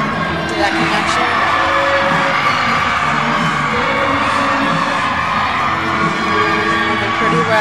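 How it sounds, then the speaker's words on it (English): Rowdy home crowd at a Northern Illinois college gymnastics meet against Bowling Green, a steady wash of cheering, whooping and shouting that fills the whole stretch, loud and continuous with no pauses. "The NIU crowd's getting a little rowdy."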